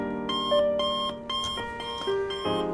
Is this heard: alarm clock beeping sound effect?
yes